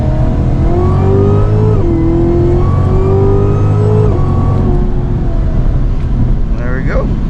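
A 2019 Cadillac CTS-V pulls hard in second gear, its engine note rising loud and close in a steady climb, easing briefly, then climbing again before backing off near the end.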